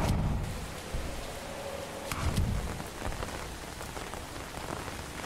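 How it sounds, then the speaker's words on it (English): Steady rain patters on a surface in a PS1-style horror video game, with a constant hiss, and a few louder splashes or drips break through now and then. "It's raining."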